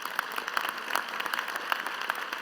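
Steady applause from an audience at an inaugural address, a dense patter of many hands clapping at moderate volume with no voices over it.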